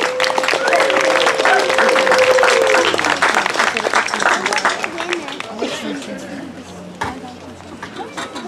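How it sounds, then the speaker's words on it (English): Audience applause at an Ojai band concert, loud dense clapping that gradually thins out, with a held musical tone early on and chatter and voices over the fading claps. "Round of applause, please."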